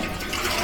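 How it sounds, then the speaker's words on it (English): An old-fashioned screw-type toilet in a low-rated UK hotel bathroom flushes, a close, loud burst of rushing water throughout the short moment, with no talking. "It's literally that at the end of a toilet flush."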